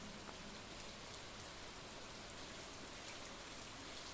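Rain falling in the video game Stardew Valley, a soft, even hiss with faint scattered drop taps, quiet and steady throughout, no voices.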